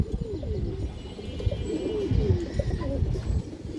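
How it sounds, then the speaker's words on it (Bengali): Army breed pigeons, including a Kajla-marked female, coo repeatedly in low, rolling phrases close by, with several birds overlapping in a continuous murmur and some faint chirps. "এই যে দেখেন কাজলা গিয়ারের আর্মি মাদি কৌতর,"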